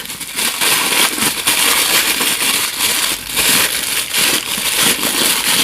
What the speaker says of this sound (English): Just pop him out, let's get this and unwrap from his sleeve